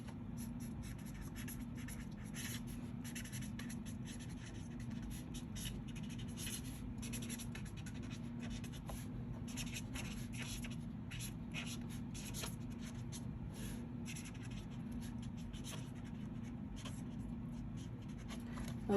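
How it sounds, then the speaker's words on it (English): Pen writing a message inside a handmade greeting card, a soft continuous scratching and rubbing of the tip on card stock, close and quiet over a steady low background hum. "You can write on the inside."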